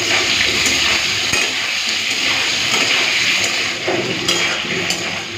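Taro and potato pieces frying in oil with cumin seeds in a home kitchen, a loud continuous hissing sizzle with a few light scrapes of a spatula against the pan, close up, no voices.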